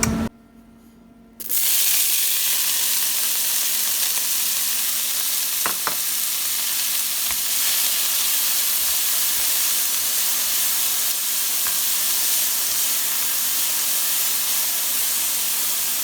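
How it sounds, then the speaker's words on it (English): Bell peppers sauté in a hot pan, a steady, close, loud sizzle and hiss that bursts in after a brief quiet moment and carries on evenly, with a couple of faint clinks along the way. "I'm going to put in the peppers and saute them"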